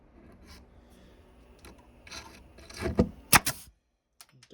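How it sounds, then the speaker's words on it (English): A nail fired from an air nailer drops and strikes the ground with a sharp metallic clink, a couple of quick bright ticks after quieter rubbing sounds, close by and alone. "Sounds like a shell casing hitting the ground."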